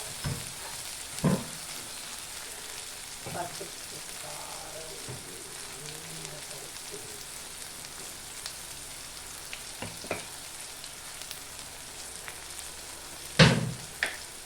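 Ginger paste fries in a pan over lowered heat, a soft continuous sizzle with a few sharper scrapes and clinks of stirring scattered throughout, fairly quiet and without talk.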